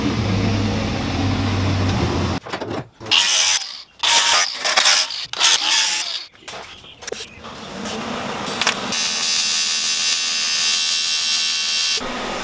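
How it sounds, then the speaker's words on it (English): A CO2 welder works on a car radiator of an AE86, giving bursts of harsh crackling buzz interrupted by short gaps, then a steadier hiss and hum for the last few seconds. "We will be continuing the welding for the radiator."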